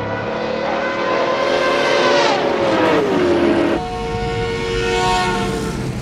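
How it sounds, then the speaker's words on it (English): Car passing by with its engine pitch sliding down as it moves away, a loud steady roar with a clear falling tone midway, without talking. "once the car passes by you, you hear the engine as if it were pitched down the more it gets further away"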